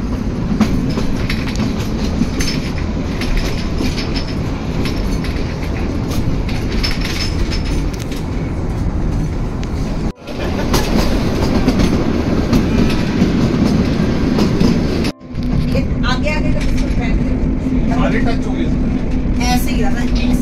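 A toy train in Shimla running on rails, heard from on board as a loud, continuous rumble with rhythmic clickety-clack and a couple of brief dropouts, while people talk over it.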